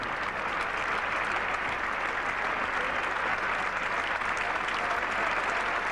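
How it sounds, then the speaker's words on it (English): Steady, continuous applause from a large cricket crowd at a 1981 Ashes Test in England, saluting England's batting; a broad, even wash of clapping that holds for several seconds, with no talk over it. "And a lot of applause is centred around the batting of the man nearest us, John Embry, not out 37"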